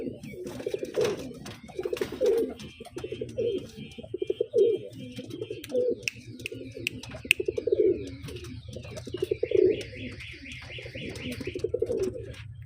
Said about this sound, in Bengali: এই হচ্ছে নরপায়রা এটা দেখুন এটা নরপায়রা এটা হলো মাদি পায়রা